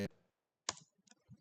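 Code typed on a computer keyboard while writing a TestNG base class: a few sparse, crisp key clicks, close and quiet, separated by short gaps.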